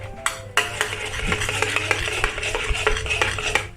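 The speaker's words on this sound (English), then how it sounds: "Push the rice to the side of the wok, and then add 2 eggs." Rice shoved aside in a wok for Indonesian nasi goreng kampung, then two eggs added: steady scraping and sizzling with sharp metallic clacks of a spatula against the pan, close and continuous.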